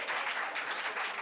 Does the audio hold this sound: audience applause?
yes